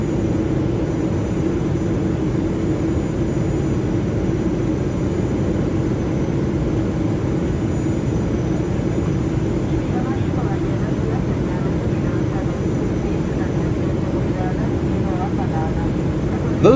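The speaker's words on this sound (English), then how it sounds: "Those low bypass engines are so fucking loud," A continuous loud roar from the low-bypass jet engines of an airliner in a flight simulator game, a steady, unbroken drone throughout.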